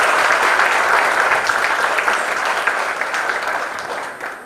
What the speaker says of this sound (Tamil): அதுக்கெல்லாம் நம்ம ஒரு பெரிய கைத்தட்டல் கொடுத்துடலாமா?